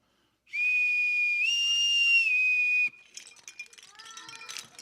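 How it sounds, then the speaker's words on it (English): A sailor's bosun's pipe sounds one long, piercing note of about two seconds that rises briefly in pitch and then settles, followed by quiet rustling and faint clinks. "This next one is a sailor's whistle called a bosun's pipe."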